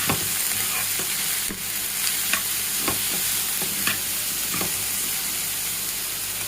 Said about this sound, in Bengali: এখন আমি গাজর আর আলুগুলো দিয়ে দিব। এখন একটু ভালো করে নেড়ে চেড়ে দিতে হবে।